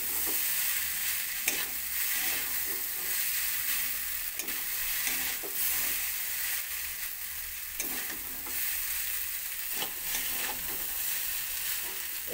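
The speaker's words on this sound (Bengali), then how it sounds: "চাউমিনটাকে মিশিয়ে নেব সমস্ত কিছু।" Chowmein tossed with fried potato, carrot and other vegetables in a pan gives steady sizzling under repeated scraping stirs and clacks of the spatula, close up, with no talking.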